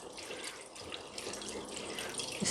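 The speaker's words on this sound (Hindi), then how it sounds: "अब हम इसे ठंडे पानी से धोएंगे।" Running cold tap water splashes steadily over chhena for a couple of seconds, a continuous close hiss with small gurgles, no voices.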